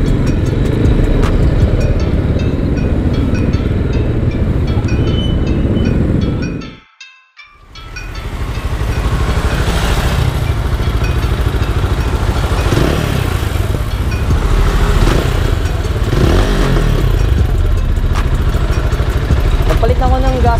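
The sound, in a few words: Rusi Sigma 250 motorcycle engine and exhaust running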